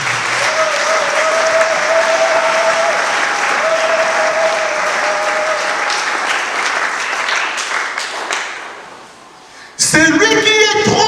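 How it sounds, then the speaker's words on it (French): A church audience applauds steadily during a sermon by a preacher, dense sustained clapping that fades briefly before a voice cuts in at the end. "Si nous pouvons encore acclamer pour le Seigneur"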